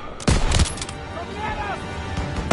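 Bursts of video-game gunfire from a World War II shooter, with a couple of loud close shots at the start and end and scattered rattling fire between, set amid a chaotic firefight.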